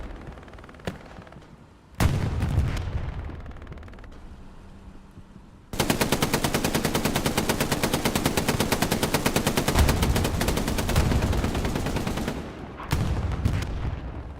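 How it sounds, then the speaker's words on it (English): Machine gun fire in the Hell Let Loose video game, in a battle at Carentan Town Center. Short bursts come first, then a long, loud, rapid sustained burst of evenly spaced shots that runs close for several seconds and drives on toward the end. "when MGs start firing, they become target numero uno"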